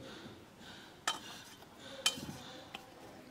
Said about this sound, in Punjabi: ਸਭ ਤੋਂ ਪਹਿਲਾਂ ਅਸੀਂ ਕੜਾਹੀ ਚਾੜਾਂਗੇ